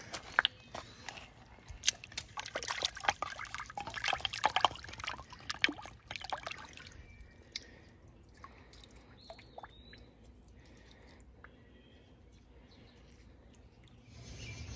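Creek water in southern Ohio trickles and splashes as a fossil-bearing rock is rinsed, with busy wet sloshing and dripping up close early on, then settling to a quieter steady trickle.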